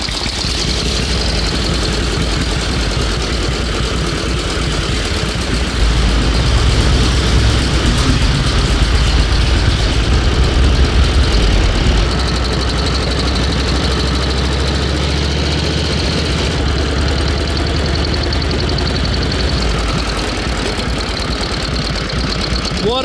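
Loud, steady running of a 1916 Traub motorcycle engine with a rapid low chugging beat, continuous for the whole stretch and close by.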